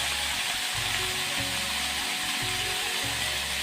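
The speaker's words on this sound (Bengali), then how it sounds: "আর নুন অল্প দিয়ে পটলটাকে ভেজে নিচ্ছি।" Pointed gourd (potol) frying with a little salt in a pan, a steady, close sizzle with a low hum running beneath it throughout.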